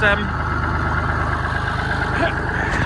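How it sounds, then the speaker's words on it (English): A Massey Ferguson 135 tractor engine runs at its lowest idle in a field where bales are being collected, a steady close low chugging with even, rapid pulses throughout and no talk. "That is low idle, it's lowest idle now."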